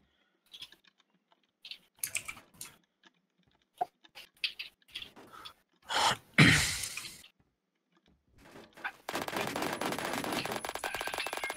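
MG3 machine gun firing in a video game, a close, rapid rattling burst that starts after scattered short clicks and taps and holds steady to the end.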